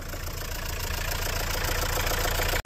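A repaired truck engine idles steadily with a close, even knocking rumble, then cuts off abruptly at the very end.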